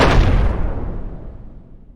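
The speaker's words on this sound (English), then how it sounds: "The original sound clips that I used are so-called wooshes." Layered whoosh sound effects for an overdramatic film scene: a loud, broad rushing burst that sweeps down and trails off over about two seconds, with no voices.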